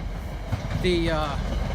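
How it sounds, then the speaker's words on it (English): A passing train rumbling close by with a low steady roar, a tonal whistle or squeal rising over it briefly. "I hear train number 5."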